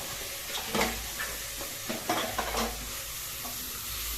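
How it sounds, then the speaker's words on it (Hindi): Softened onions frying in oil for a saag meat dish, a quiet steady sizzle under low hum with a few soft stirring scrapes and clinks, no voices. "ये देखिए प्याज जो है कुछ हद तक नरम हो गया और तेल में भुने जा रहा है"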